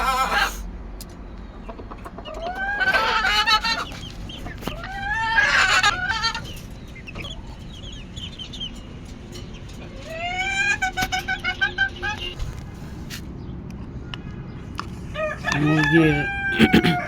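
Backyard chickens, adult hens and young chicks, cluck repeatedly while a rooster crows several times, moderately near, with faint background noise and occasional voices.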